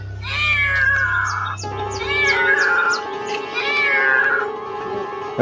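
A cat meows plaintively in long, wavering cries, close and loud, one drawn-out wail flowing into another over a low background hum.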